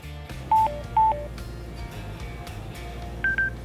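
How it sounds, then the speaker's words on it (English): A Boom Audio N02 full-face motorcycle helmet headset emits short electronic tones: two quick matching beeps, then a pause, then a higher pair of beeps near the end, clear over a low background hum. "You'll hear a series of beeps and prompts."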